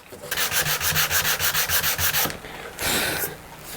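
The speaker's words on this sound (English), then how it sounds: "180 grit on my sanding block, and we're just going to start to sand out some of that chatter left by the spindle sander" Wood on a guitar build sanded by hand with a 180-grit sanding block, about fifteen quick rhythmic rasping strokes close up, then a brief pause and one longer stroke.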